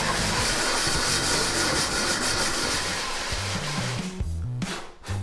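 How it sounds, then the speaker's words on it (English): The second half of a moped engine crankcase is scrubbed in circular motions across sandpaper, giving a loud, close, continuous abrasive rasp with a rhythmic swishing pulse that eases near the end. "Then we repeated the exact same process with the other half."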